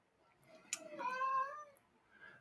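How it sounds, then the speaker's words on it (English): A kitty cat gives one clear, drawn-out meow at close range, preceded by a short click, in an otherwise quiet room. "And a kitty cat."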